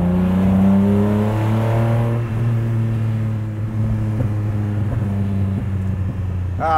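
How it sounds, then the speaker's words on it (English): A custom 1974 Datsun Fairlady 260Z with a stroked engine idles loud and close with a steady low rumble, then the note changes and small popping crackles break through near the end. "This car makes some great pops."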